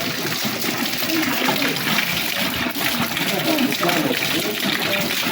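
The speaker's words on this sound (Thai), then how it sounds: "ชาวบ้านจะเอา เอาขวดน้ำมากรอกแบบนี้เนาะ" Mineral spring water from a volcanic source in Romania pouring steadily into plastic water bottles, a loud continuous splashing gush close by, with a voice speaking over it.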